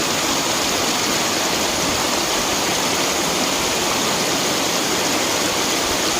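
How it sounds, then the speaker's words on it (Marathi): Spring water rushes down a jungle stream during the monsoon, a dense, constant roar of flowing water heard up close with no voices over it. "आता हे पाहता तुम्ही झऱ्याचं पाणी पाहू शकते"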